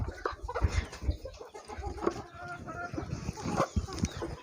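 Hens cluck and fuss at a small poultry farm, a nearby scattering of short clucks and calls in an uneven rhythm.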